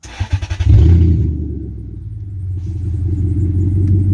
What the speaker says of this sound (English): Oh yeah, I forgot to say it's open headers at the moment, so it's quite loud.